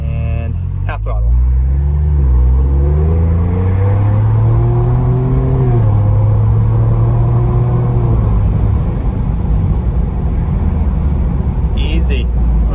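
A Ford Bronco V6 pulls at half throttle on a flat road, a steady close rumble rising and falling in pitch as it accelerates, with brief clicks and a short voice at the start and end.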